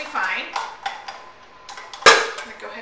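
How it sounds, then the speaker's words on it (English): A spatula scrapes chocolate chip cookie batter off a stand mixer paddle in a series of soft scrapes and light metallic taps, ending in one sharper clink, close and fairly loud. "we are just gonna scrape that batter off the paddle"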